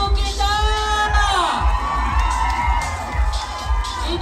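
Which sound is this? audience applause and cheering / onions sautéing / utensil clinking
audience applause and cheering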